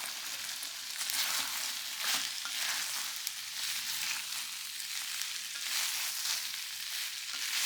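Chilli chicken sizzles in a sauce-coated pan, a steady hiss that swells and eases in waves as it is stirred, with no talking.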